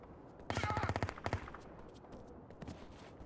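A rapid burst of automatic gunfire in the video game IGI 1 rattles close by, followed by a few scattered shots fading out.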